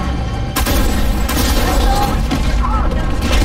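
A vehicle explodes in the video game Homefront: The Revolution, a loud booming blast with crackling debris and gunfire-like bursts that carry on over continuous game noise.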